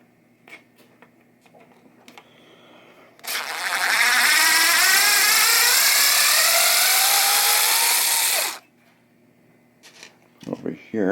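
A power driver unscrews a part from the pop bumper of a 1972 Williams Super Star pinball machine, giving one sharp, whirring burst of about five seconds that cuts off abruptly. Quiet clicks and handling noises come before it and after it.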